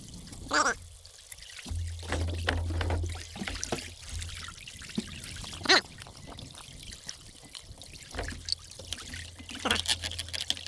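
Coconut milk pours into a hot pot at an outdoor camp, a soft trickling stream with scattered splashes and clinks over a low steady hum.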